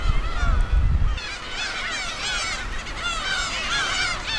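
A flock of black-tailed gulls calls repeatedly in loud, overlapping squawks, following a brief low rumble at the start.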